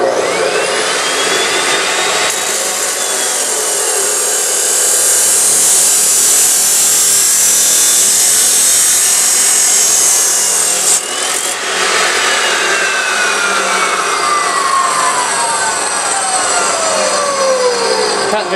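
A Porter Cable 14 in. chop saw cuts through 1 in. square tubing. It gives a loud, steady, harsh abrasive whine for about eighteen seconds, with the pitch sagging partway through and again near the end as the blade bites.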